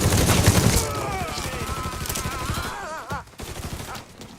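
A loud gunfire burst opens a Mafia 3 shootout, then gives way to a wavering wail and scattered thumps, with a short sharp hit near the end.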